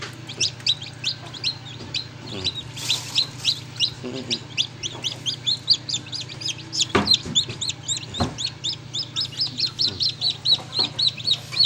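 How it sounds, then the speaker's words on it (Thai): Newly hatched chicks in an egg incubator peep rapidly and continuously, a dense run of high chirps over a low steady hum, with a few knocks and faint rustles between. "มีไหมไก่น้อยฟักออกมาเพียบเยอะแยะเลย"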